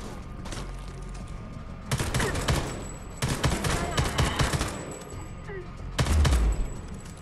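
Bursts of automatic gunfire in the shooter game Homefront: The Revolution, loud and close, arriving in several sustained volleys with brief gaps between them, while a player talks over the action.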